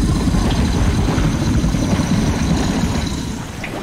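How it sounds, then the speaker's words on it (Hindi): A crocodile in a large sewer in the video game Gas Station Simulator gives a loud, continuous low rumbling growl that holds steady for several seconds, then fades slightly at the end. "वो मगरमच्छ की आवाज थी"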